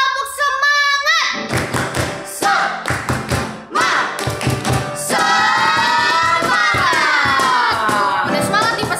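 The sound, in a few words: group clapping a rhythmic spirit clap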